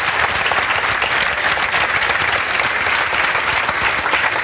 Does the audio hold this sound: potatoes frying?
no